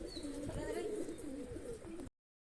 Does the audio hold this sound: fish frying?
no